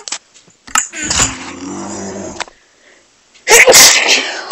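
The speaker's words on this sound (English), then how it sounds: "I'm gonna sneeze, so sorry if it's a bit loud." A single loud sneeze bursts out after a sharp inhale, followed by a pause and then a second noisy exhale or blow close to the microphone.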